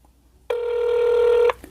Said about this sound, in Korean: 이렇게 차단이 되어 있지 않다면 계속 벨소리가 울리고요